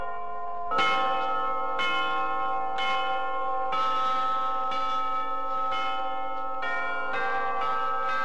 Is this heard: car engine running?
no